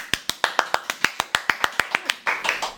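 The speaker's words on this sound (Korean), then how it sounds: "박수!" A handful of people clap in the studio to welcome a lecturer, about fifteen sharp, evenly spaced claps over under three seconds, close and fairly loud. The clapping ends in a brief burst of slightly looser applause.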